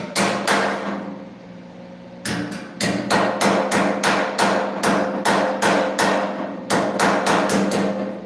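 Repeated sharp body-hammer blows on a metal car body panel being shaped on a custom Lamborghini build, coming in quick steady bursts with a short pause partway through, loud and close.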